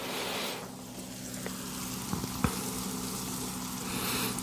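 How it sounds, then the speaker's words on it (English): Steady, soft sizzling crackles of bacon frying in a nonstick skillet, a continuous frying hiss with a few small pops, no voices. "We got our bacon starting to sizzle."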